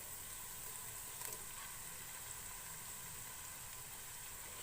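Garlic ginger paste sizzling in a pan with golden-brown fried onions for a vegetable pulao: a steady, faint hiss that holds evenly throughout with no other sounds.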